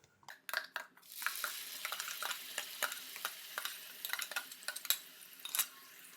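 A ground spice paste frying in two tablespoons of hot oil while being stirred: a continuous close sizzle broken by frequent sharp scrapes and clicks of the spoon against the pan.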